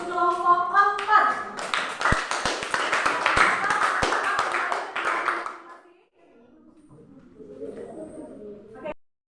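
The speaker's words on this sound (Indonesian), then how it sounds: "Berikan aplaus sekali lagi untuk kelompok 4." A classroom crowd of students claps for a group that has just finished presenting, a dense burst of hand claps with a few sharp slaps, fading out after about six seconds, then soft murmuring with a teacher's voice in the background.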